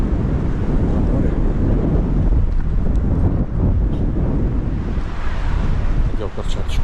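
Sea waves crash under strong wind after a hurricane, heard on a cold November walk by the shore: a loud, continuous roar of surf with heavy wind buffeting the microphone for several seconds.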